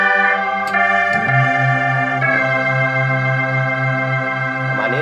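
An organ sound on The ONE Keyboard Air, layered with a strings patch underneath, holds full sustained chords. The chords shift a couple of times as a rich, bright pad with a low bass note beneath.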